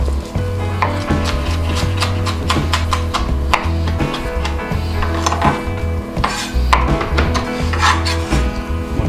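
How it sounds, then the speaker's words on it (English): Three sprigs of basil chopped finely with a knife on a board: rapid, steady tapping strokes, close and crisp, with brief pauses between runs. "Now next we need 3 sprigs of basil. We're gonna chop this finely."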